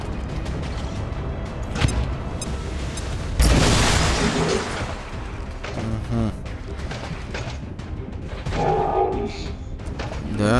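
A loud explosion blast in the video game XCOM 2 lands around the midpoint, a sudden broadband burst with rumbling decay, set amid busy game sounds and effects with talk around it.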